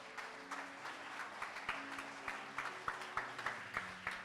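A church congregation applauds to acclaim the Lord, a soft, distant patter of clapping with steady rhythmic accents, as in a Christian worship service.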